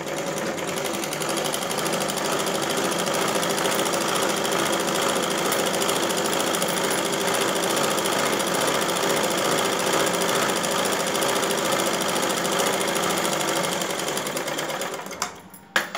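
Sewing machine stitching the back piece of a blouse, a fast, even mechanical whirr running steadily close by for most of the stretch before stopping near the end with a few small clicks.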